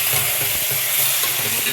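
Chicken with masala is sautéed and stirred in a pressure cooker, giving a continuous loud sizzle with scraping stir noises, close up and without talk.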